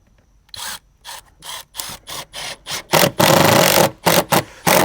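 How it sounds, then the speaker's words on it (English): Power screwdriver driving screws into faux exterior wall panels, one screw every twelve inches along the top edge, heard as loud close bursts of whirring and clicking separated by short pauses, with a longer sustained run near the end. "we're going to put 1 screw every 12 inches along the top"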